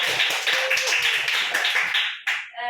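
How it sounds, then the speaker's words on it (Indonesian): A classroom group claps together in a dense burst for about two seconds, close and fairly loud, then the clapping cuts off abruptly. "Ya, tepuk tangan buat"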